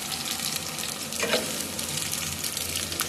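Chicken curry fries in a pan with a steady, crackling sizzle and a brief stirring scrape midway, close and continuous throughout.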